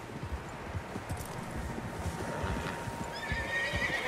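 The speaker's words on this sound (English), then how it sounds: "Horses, quite a few of them." Several horses in Red Dead Redemption 2 whinny and neigh while hooves clip-clop steadily on the ground, a busy cluster of hoofbeats under repeated high calls, fairly close.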